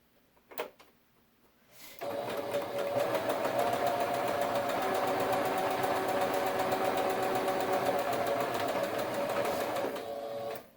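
Sewing machine stitching a bubble quilt, starting after a short clatter and running as a steady, fast continuous whir for about eight seconds before stopping.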